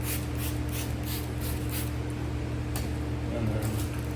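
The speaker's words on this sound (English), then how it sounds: "we'll spray some more soapy water on it." Trigger spray bottle misting soapy water onto a truck hood solar panel on a Tacoma, a series of short close hissing spritzes over a steady low background hum.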